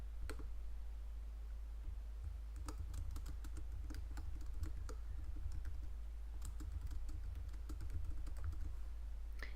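Keys clatter on a computer keyboard as a note is typed into Google Keep, quiet irregular bursts of clicks with short pauses between them and no voices.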